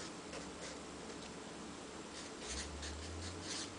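A pen scratches out an equation in soft, rapid strokes, faint and close, over a steady hiss of background noise, with no talking.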